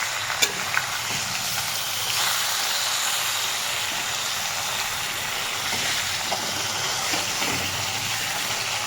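Pieces of katla fish fry in hot oil in a pan, giving a steady, close, broadband sizzling hiss that runs throughout, broken by a few sharp pops and crackles, with no voices.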